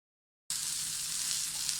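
Breakfast batter sizzles steadily in a hot pan, a loud continuous hiss that starts abruptly after a brief silence and holds even to the end.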